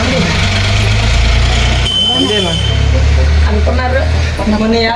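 A large vehicle idles after coming to a stop, its low steady engine rumble filling the scene up close and loud, while people talk over it and a faint high whine runs through.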